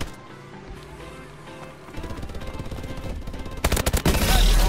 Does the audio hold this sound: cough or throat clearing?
no